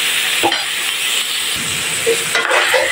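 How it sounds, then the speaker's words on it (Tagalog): Pork belly fries loudly in oil in a pan for an ampalaya stir-fry, giving a close, continuous sizzle. A few stirring scrapes and light knocks cut through it. "Habang piniprito natin yung ating pork belly"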